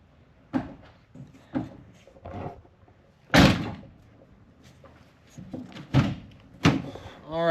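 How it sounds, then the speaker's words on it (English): Doors on a Mercedes Sprinter van are shut repeatedly, a series of nearby thuds and solid slams of varying strength, the loudest in the middle, with faint clicks and rattles between them. "we're going to shut the door just to make sure again"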